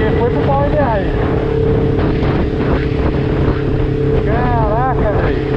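A Honda CB500 motorcycle engine runs loud and close with a faulty clutch, a steady low drone broken by rising and falling rev sweeps, with wind noise throughout.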